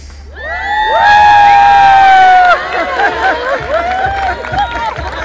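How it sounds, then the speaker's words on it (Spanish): A crowd at a wedding celebration cheers loudly, with shouts and whoops from children and adults rising together, peaking for a couple of seconds before settling into scattered excited voices and claps. "fuerte ese aplauso al ganador de la liga"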